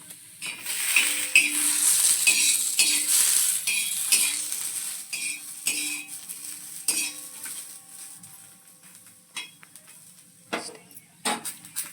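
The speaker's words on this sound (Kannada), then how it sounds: "ಆ್ಯಂಡ್ ಮೆಣಸಿನ್ಕಾಯಿ, ಹಸಿ ಮೆಣಸಿನ್ಕಾಯಿ ಹಾಕ್ಬಿಟ್ಟು ನೀಟಾಗಿ ಹುರಿಬೇಕು" Green chillies fry in a pan at home while making chutney for idli, giving a steady close sizzle broken by repeated scraping and stirring clinks of a utensil against the pan, easing off toward the end.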